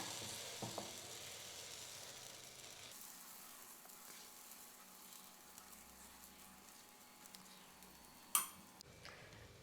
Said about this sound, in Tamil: இப்போ இந்த மாவை எடுத்து ஊற்றிக்கலாம்.